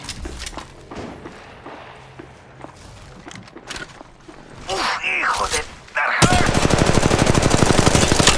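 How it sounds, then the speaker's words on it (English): Video game gunfire comes as a rapid automatic burst that grows loud and dense toward the end, after scattered shots and busy game noise, close and alone with no talk over it. "Opening fire."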